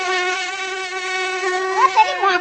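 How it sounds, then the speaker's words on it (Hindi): A cartoon mosquito whines steadily in a loud, close, high drone that wavers slightly in pitch near the end, with no speech. "मच्छर घोड़े के पास आके"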